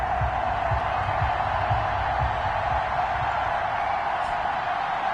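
Steady stadium crowd roar from a Madden NFL 21 game before a Baltimore Ravens versus Denver Broncos matchup, a constant dense wash of cheering with low rumbles, loud and unbroken throughout.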